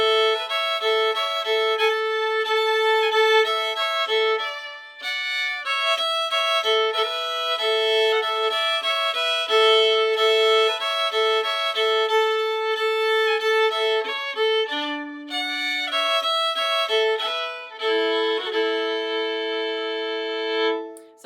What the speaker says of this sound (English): So you can play both strings